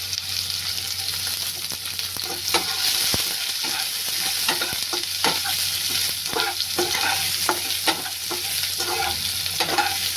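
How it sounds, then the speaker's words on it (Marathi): Chopped onion frying with garlic in a pan: a continuous bright sizzle with frequent sharp scrapes and clicks of a spatula stirring, close and fairly loud, with no voices. "कांदा व्यवस्थित परतून घ्या."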